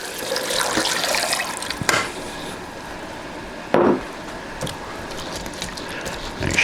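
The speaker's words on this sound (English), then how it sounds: "In goes our 2nd quart of water." A quart of filtered water pours into a pot of corn cobs, a steady splashing rush with a couple of sharp knocks and clunks against the pot.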